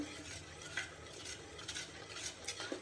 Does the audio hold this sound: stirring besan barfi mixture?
yes